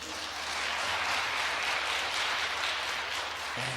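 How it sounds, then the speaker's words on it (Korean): A congregation at a church Bible study applauds in a steady, dense wash of clapping that holds for several seconds without a break. "우리 박수 한번 쳐야 되겠죠?"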